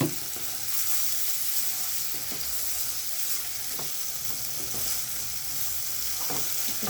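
Prawn curry bubbling and sizzling in a pan right after a splash of water goes in, with a steady, loud frying hiss throughout and faint scrapes of stirring mixed in.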